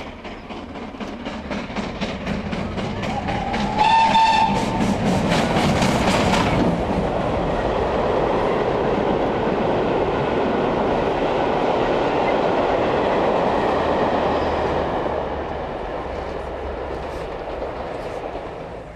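GWR steam locomotive 5029 hauling a train, a loud close pass with rhythmic wheel clatter and rushing steam, a brief whistle-like tone near the start, then fading slightly.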